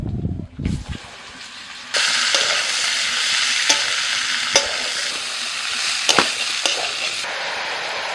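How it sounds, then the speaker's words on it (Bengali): Bottle gourd pieces drop into hot oil already tempered with dried red chilli, bay leaf and whole cumin, setting off a loud, steady sizzle punctuated by a few clinks of a spatula, close by. "এবার দিয়ে দিচ্ছি লাউ"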